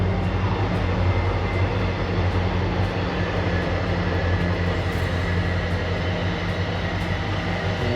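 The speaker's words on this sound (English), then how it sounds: "There is a train that comes by" A steady, heavy rumble of a train passing a campground on the C&O Canal Towpath, continuous and fairly loud throughout, with low droning tones and no voices.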